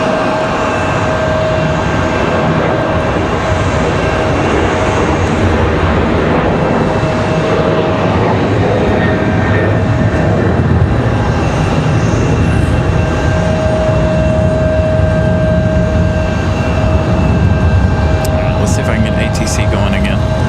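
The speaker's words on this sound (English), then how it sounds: "This Delta 737-900" A Delta Boeing 737-900 airliner at Raleigh-Durham on a windy day gives off a loud, sustained engine roar, a broad rumbling wash that stays strong throughout.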